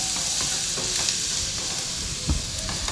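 Onions sautéing in a pan for chana masala, a steady broadband sizzle with scattered stirring scrapes and one louder knock near the end, close and continuous with no talking.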